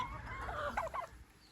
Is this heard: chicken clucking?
yes